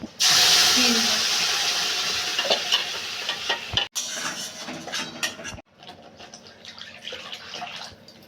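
Tamarind paste dropped into hot oil with five-spice seeds and turmeric in a wok, a loud burst of hissing sizzle that gradually settles, followed by clattering stirs and softer frying, with brief talk.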